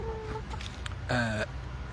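A chicken lets out a short, nasal cluck-like call, close and fairly quiet, over faint background noise.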